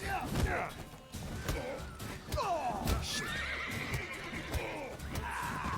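A horse whinnies several times over clip-clopping hooves in the video game The Witcher 3, with crashes and thuds mixed in, all fairly loud and close.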